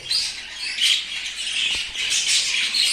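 Budgerigars squawk and chirp continuously at a breeding aviary, a dense, harsh chorus of several birds close by with bursts of louder calls.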